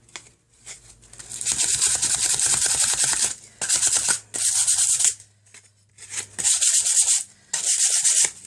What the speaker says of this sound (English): So just give it a quick rub around the edges like so.